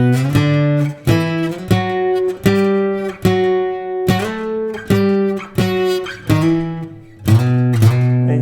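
Electric guitar lick played in sixth-string octave shapes, with slides into the notes. The phrases are loud, close and sustained, a run of repeated octave chords with short gaps, and nobody speaks over them.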